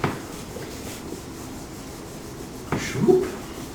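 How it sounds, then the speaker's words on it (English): In a classroom, an eraser rubs back and forth on paper with a soft, steady scratching, faint and close, ending with a slightly louder burst of scrubbing. "That's the sound of a person erasing."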